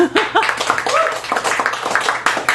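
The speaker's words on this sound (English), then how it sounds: "Janet Kuipers, everybody, round of applause." Clapping and cheering from a crowd at a poetry feature in a Chicago cafe gallery, dense and steady for a couple of seconds, with some voices mixed in.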